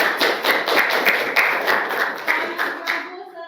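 A group of students clapping together in a biology classroom, a quick run of roughly regular, crisp claps close by that fades out after about three seconds.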